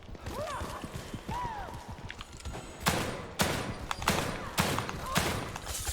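A burst of handgun shots from The Evil Within 2, several loud sharp cracks fired in uneven succession over game ambience, with a creature's rising cries just before.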